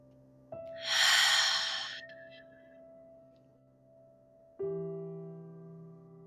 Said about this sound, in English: Just take a deep breath in and exhale.